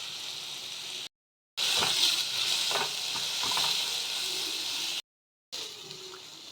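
Ground coriander, cumin and chili powder sizzle steadily in hot oil while being stirred, for Punjabi-style mustard greens; the frying hiss is loud and continuous with soft scraping, cut by two brief silent gaps.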